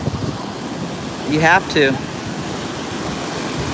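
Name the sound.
ocean waves at Cocoa Beach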